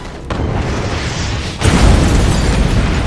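A loud, sudden boom from a rocket launcher hitting cars in a tabletop role-playing game cuts in partway through, followed by a sustained roaring, rumbling blast over an already noisy, dense background.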